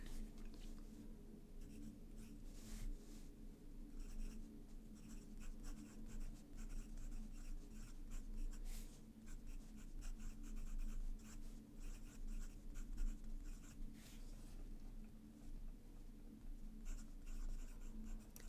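Fountain pen with a journaler stub nib, a smooth rounded stub ground from a medium, moving across paper in steady soft scratching strokes, continuous and close, with no talking.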